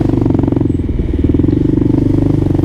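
A Kawasaki KLR 650 motorcycle engine idles close by with a steady, loud single-cylinder thump, its rhythm easing slightly as the revs drop off the throttle, with no talk.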